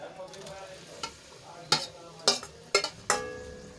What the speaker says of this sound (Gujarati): તો ગ્રેવી આપણી સરસ રીતે ઉકળવા લાગી છે તો એમાં આપણે બાફેલા બટેટા એડ કરી લઈશું